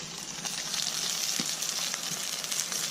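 Steady crackling sizzle of eggplant frying in a pan at a campsite, continuous and close, with small pops scattered throughout and no voices.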